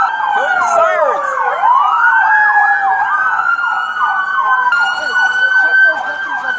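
Wailing and yelping police car sirens at a tense manhunt scene, several overlapping rising and falling tones, loud and close, with sustained sweeps, engine rumble beneath and a voice briefly audible.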